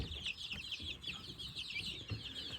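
Rhode Island Red and crested cream legbar chickens cluck steadily in a barn, a busy, layered chorus of overlapping clucks and soft calls carried over a low background rumble, with no talking.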